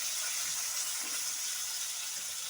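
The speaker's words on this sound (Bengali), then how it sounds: "ফোড়ন হালকা করে ভেজে নিয়েছি, এবার দিয়ে দিচ্ছি কেটে রাখা আলু।" Cut potatoes go into hot oil with lightly fried tempering spices, a steady bright hiss of frying filling the whole stretch without a break, close and even, with no talk.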